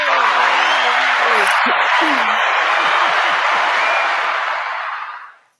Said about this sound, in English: Give the round of applause one more time, Ace